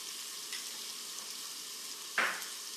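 Onion frying in a pan with turmeric powder, a steady soft sizzle running throughout with a brief sharper burst near the end, no voices.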